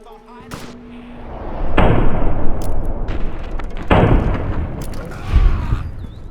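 Pistol shots ring out in Fallout New Vegas from atop a rickety wooden roller coaster, with several loud, booming reports spaced a couple of seconds apart over ambient game background noise.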